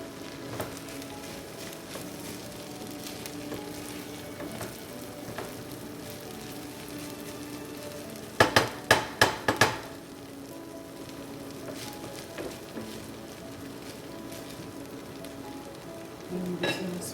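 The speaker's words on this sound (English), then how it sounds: "So we're just going to stir it." Warm rice with corn being stirred in a pan, a low steady sizzle with a brief burst of sharp utensil clanks against the pan midway and occasional soft scrapes, close by and without speech.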